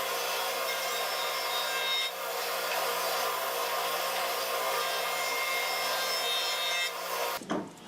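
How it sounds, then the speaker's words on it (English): A jointer planes glued-up laminated wood boards to clear excess glue from the surface, giving a steady, loud, continuous cutting roar that runs nearly the whole time before cutting off abruptly near the end. "I just run these glued up laminated sections through the joiner to clean up the excess glue on the surface"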